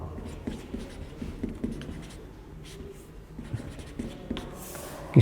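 Chalk or marker writing out a physics definition of electric field on a board during a Class 12 lesson, a steady scratchy scraping with small tapping strokes, close and fairly quiet.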